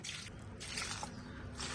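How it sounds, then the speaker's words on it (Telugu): Homemade kitchen-waste liquid fertilizer is poured lightly onto sprouting fenugreek plants in a garden, giving a steady, close, wet splashing hiss that runs the whole time with small squishy drips. "కొంచెం నేను లైట్గా పోస్తున్నాను."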